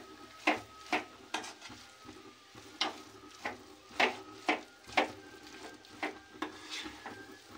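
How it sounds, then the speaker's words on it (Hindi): Carrot and potato bharta is mixed with fresh green coriander, giving a steady series of close stirring scrapes and soft thuds at a regular rhythm, with no voices. "अब इसे अच्छे से मिक्स कर देना है सभी को।"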